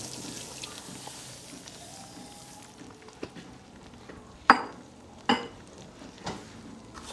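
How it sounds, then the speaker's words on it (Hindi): A metal spoon stirs sugar into milk while matanjen is cooked, giving a few distinct clinks and scrapes against the pot over a soft background hiss. "चीनी शामिल करके आप इसे अच्छे तरीके से मिक्स करना शुरू कर दें।"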